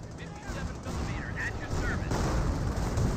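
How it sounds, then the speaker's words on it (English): Artillery barrage in the World War II strategy game Company of Heroes, a dense rumble of distant booms and blasts that builds in loudness over a few seconds, with faint battlefield chatter underneath. "Barrage, looks like I barrage this direction."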